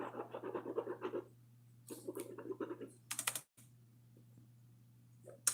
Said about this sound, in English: shuffling your cards